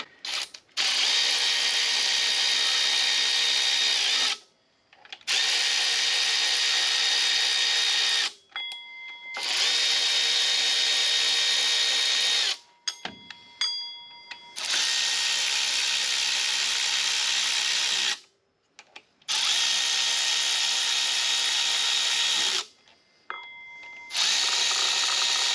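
A power tool runs bolts in on LS swap accessories with a high-mount A/C relocation, in several loud, even whirring bursts of a few seconds each, split by short silences and faint clicks.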